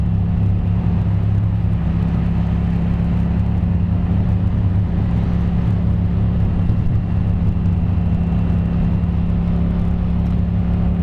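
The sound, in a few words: Yamaha FZ-07/MT-07 motorcycle riding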